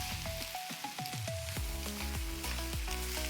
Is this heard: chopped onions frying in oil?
yes